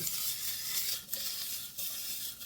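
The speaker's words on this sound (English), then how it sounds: "I have my broccoli here, just sauteing, just plain broccoli" Plain broccoli sautéing in a pan for a Sunday supper, a faint, steady sizzle with occasional light stirring, no one speaking.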